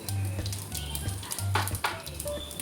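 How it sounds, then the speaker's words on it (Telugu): Oil sizzles and crackles steadily in a hot pan as tempering spices, dried red chillies and curry leaves fry for chutney, with short bursts of spattering; a low hum runs underneath and no one speaks. "ప్యాన్లో నూనె వేసుకొని పోపు దినుసులు అన్నీ వేసుకొని పోపు పెట్టుకుందాం"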